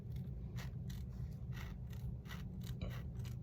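Scissors snip through journal cover material in a quick series of faint, crisp cuts over a low background hum.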